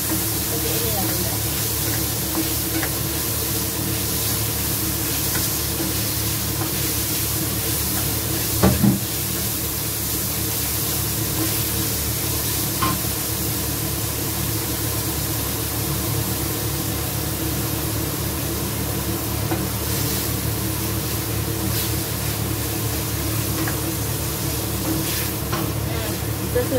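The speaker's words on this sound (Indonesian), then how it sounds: "Kita tumis hingga harum." Chicken pieces sizzle and are stirred in a hot pan for zuppa soup, a steady loud frying hiss with occasional scraping clatters, a voice talking over it.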